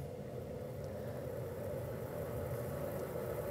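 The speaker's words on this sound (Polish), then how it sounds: "I teraz spowodujemy obracanie się tego silnika elektrycznego." An electric motor turns a crank in a mechanical resonance physics demonstration, giving a steady, even hum and rumble with a constant tone and no talking.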